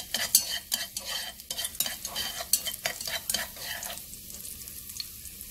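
Loud, crackling sizzle of minced garlic frying in hot oil in a pot, with repeated stirring scrapes and clicks of a utensil against the pan.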